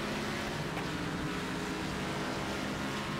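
A race car engine in the Wreckfest racing video game drones steadily with a buzzing, rough tone, continuous and moderately quiet for a few seconds.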